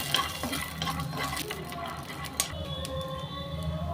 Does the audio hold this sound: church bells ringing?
no